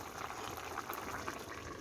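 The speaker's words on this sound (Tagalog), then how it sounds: "andito pa, kumukulo pa." Braised salmon and radish in soy sauce simmering in a pot, giving a steady close bubbling hiss with a soft crackle that holds throughout, and no talking.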